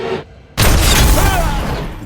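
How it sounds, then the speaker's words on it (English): A loud rifle gunshot in a Mad Max: Fury Road film scene, a sharp boom after a brief quiet gap, followed by a sustained ringing, buzzing wash that lingers for over a second. "the buzzing in Max's ear because the gunshot just went off right next to his head"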